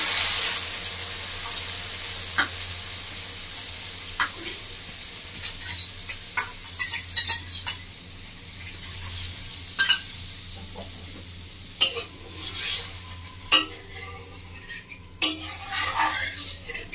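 A mixture is poured into hot oil with tempering spices for a Bengali village-style curd eggplant dish, giving a steady sizzle with repeated sharp clinks and scrapes of a spoon stirring in the pan.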